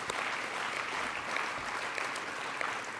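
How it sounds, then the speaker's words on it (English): Audience applause at a business awards ceremony and member meeting in a convention center, a steady, even wash of many hands clapping at moderate distance with no pauses. "let's give them a round of applause"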